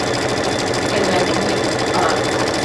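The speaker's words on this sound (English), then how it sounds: "I am using one of our baby lock machines here in the office" A Baby Lock embroidery sewing machine stitches a tooth fairy pillow design, a loud, close, rapid mechanical chatter with a steady rhythmic pulse that runs without a break.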